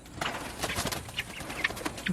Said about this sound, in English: So these are the last two little chickens that I have